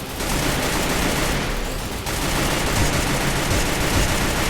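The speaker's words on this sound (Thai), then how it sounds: "ยิงเร็วมาก โอ้ยยิงยากจัง" Dense, rapid automatic gunfire in the mobile shooter game Free Fire, a loud continuous rattle of shots with a brief dip before the burst resumes.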